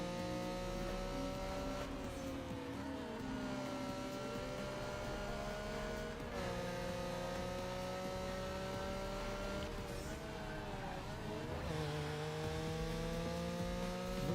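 Steady whine of a Porsche engine racing in Need for Speed Underground 2, sustained and fairly quiet, with gear shifts dipping and rising the pitch several times and no talking.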